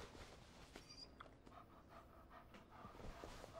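A puppy pants steadily in Life Is Strange 2, quick breathy huffs close by, with a faint whimper and soft game ambience underneath.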